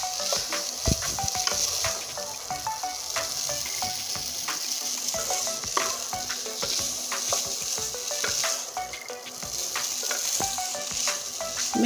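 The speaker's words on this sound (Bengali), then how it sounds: "এখন ম্যাগি টমেটো একসঙ্গে নেড়ে নেব সুন্দর করে।" Maggi noodles and tomato stirred together in a hot pan: a continuous sizzle under a dense run of quick spatula scrapes and taps against the metal, close and fairly loud throughout.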